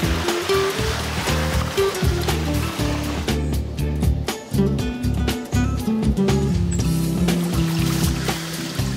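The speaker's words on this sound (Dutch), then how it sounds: "Daardoor loopt het water via de bovenste sprunkelbeek naar de vergaarbak." Water rushes down the upper mill stream into a collecting basin at a watermill, a steady churning splash with rhythmic knocking and clunking underneath, loud and close, with no voices.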